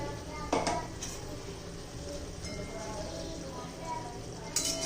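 A spoon stirs a drumstick-leaf vegetable dish with crushed peanuts in a pan, with steady scraping and a few clinks against the metal close by, under faint kitchen background.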